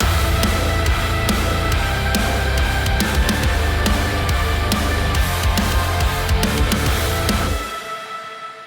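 A MIDI guitar rock lead plays up high on another string over a full, dense backing mix, sustained and steady before cutting off near the end and leaving a short fading tail.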